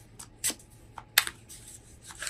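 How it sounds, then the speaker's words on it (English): Animal Wise tarot cards are shuffled in soft, quiet, irregular flicks and riffles, a few crisp papery snaps spread over a couple of seconds against a low background hum. "shuffling the Animal Wise Tarot"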